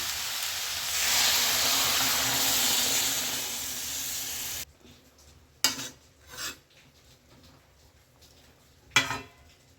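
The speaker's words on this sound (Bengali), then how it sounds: "এবার পরিমাণ মতো জল দিয়ে দিচ্ছি।" Water poured into a pan of pumpkin curry: a loud steady hiss and bubbling rush for several seconds that cuts off abruptly, followed by a few sharp clinks and scrapes of cookware.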